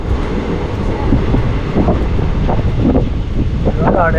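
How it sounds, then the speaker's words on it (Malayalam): A train pulling out of Cherukara railway station on the Shornur–Nilambur line, a steady loud rumble of wheels and carriage with wind buffeting throughout, and a brief horn-like tone near the end. "അങ്ങനെ ചെറുകരയിൽ നിന്ന് വണ്ടി എടുത്തു."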